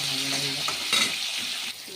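Potato and eggplant pieces fry in a hot pan while being stirred, giving a dense, close sizzle with scraping movements that eases off near the end of the short stretch.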